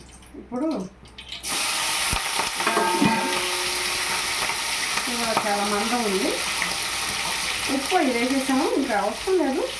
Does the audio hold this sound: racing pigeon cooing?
no